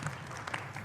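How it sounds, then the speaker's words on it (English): An audience applauds for two volunteers on stage at an astronomy lecture, a brief burst of steady clapping spread across the room. "please give a round of applause to our two excellent volunteers"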